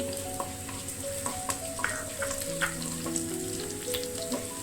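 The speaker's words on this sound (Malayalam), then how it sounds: "ഒന്ന് മൂക്കുന്നിടം വരെ ഇളക്കി കൊടുക്കാം" Shallots, curry leaves and coriander seeds fry in a pan, a steady crackling sizzle punctuated by frequent light scrapes and taps of the stirring spoon.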